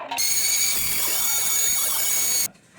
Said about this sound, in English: So just taking it, scraping along the edge